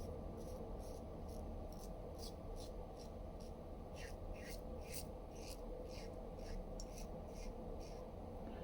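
A Rockwell 6S stainless steel safety razor shaves nearly five days of stubble, giving a steady, close, faint raspy scraping of repeated strokes in a quiet room.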